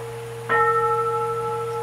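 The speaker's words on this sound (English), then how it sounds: "usually here the priest rings the bell 8 times" A priest strikes a bell once during a Jodo Shu Buddhist daily service, giving a clear metallic strike followed by a steady, sustained ringing tone that slowly fades.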